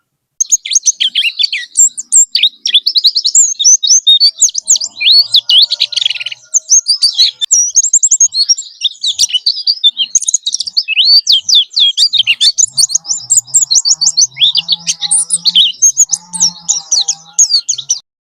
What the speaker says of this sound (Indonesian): Ini udah burungnya udah ngeriwik kasar